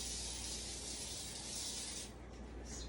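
Trigger spray bottle of cleaner misting across a kitchen counter during ant-season cleaning, a steady broad hissing spray lasting about two seconds, close and fairly faint, then a brief pause and a short second burst.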